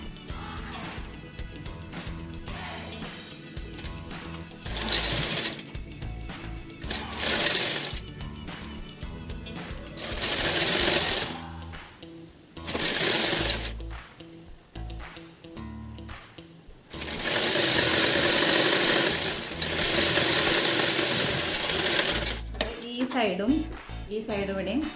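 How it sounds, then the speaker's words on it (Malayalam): Sewing machine stitching along the side seam of a fabric apron, running in several loud bursts of whirring, with the longest continuous run near the end and pauses in between. "ഇതുപോലെ അപ്പുറത്തെ സൈഡ് നമ്മൾ തയ്ച്ചു കൊടുക്കുക."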